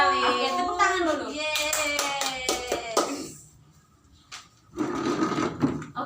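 Children in a classroom clap their hands together in a short burst of claps, followed by a brief pause and a second, looser round of clapping, with young voices mixed in.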